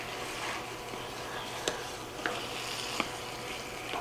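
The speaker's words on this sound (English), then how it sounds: "I'm gonna stir this up." Ground beef loose-meat mixture stirred in a pan, a soft continuous sizzle with a few sharp scrapes and clicks of a utensil against the pan, fairly quiet and without talk.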